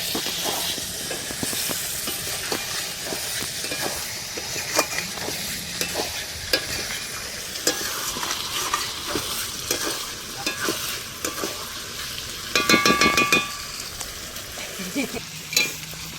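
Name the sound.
potatoes frying and being stirred over a wood fire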